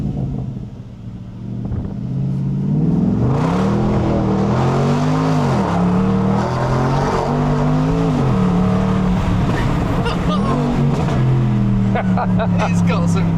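A straight-piped 500bhp Jaguar XFR launches hard, its exhaust rising from a low rumble into a loud, raw roar that climbs through several gears with brief dips between shifts, heard from inside the car.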